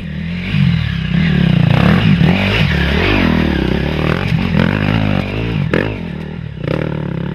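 Onboard a motorcycle racing in a CrossWorld event, the engine revving and dropping as it accelerates and brakes, close and loud, with rattling and scraping from the bike over rough ground.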